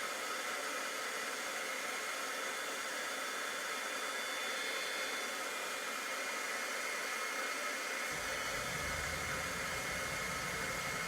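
A heat gun blows a loud, steady hiss and roar while melting embossing powder on a Christmas card, continuing unbroken with a slight lower rumble added near the end.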